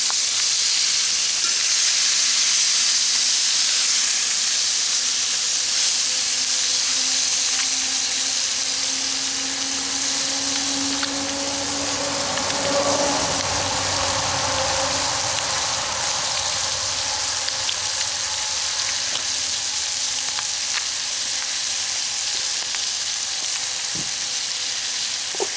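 Rib-eye steaks sizzle and crackle steadily over a campfire, a loud continuous frying hiss running the whole time, with a few faint scrapes and stirring touches partway through and no talking.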